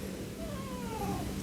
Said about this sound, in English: Oops, I hear my kitty wants out.